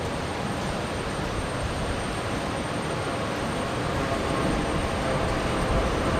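An airliner on flight 1245 to Rockhampton departs Brisbane Airport during a cyclone evacuation, producing a continuous broad jet roar that holds steady throughout at moderate distance.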